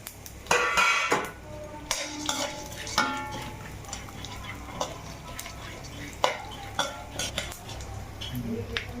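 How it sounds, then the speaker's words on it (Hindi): Cinnamon sticks roasting in ghee in a pan, stirred with a metal spoon: repeated clattering scrapes and knocks of sticks and spoon against the pan over a faint sizzle, close and irregular throughout. "दालचीनी को भी हम इसमें रोस्ट करेंगे।"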